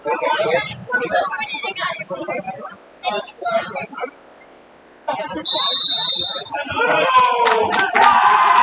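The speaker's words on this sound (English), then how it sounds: "You hear the cheering section here in the house for Crestline, obviously very happy." A home cheering section at a high school boys basketball game erupts into loud, sustained cheering and shouting, with a buzzer-like tone, following a stretch of an announcer talking.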